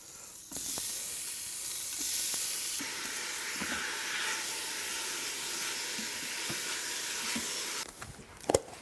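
Ground beef sautés in a hot Instant Pot, a steady close sizzling hiss running throughout with a few faint clicks and knocks, ending in a brief clatter.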